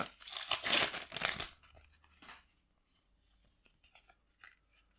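A Topps Champions League sticker packet torn open up close, a loud burst of crinkling and ripping foil for about two seconds, then sparse faint rustles of the paper being handled.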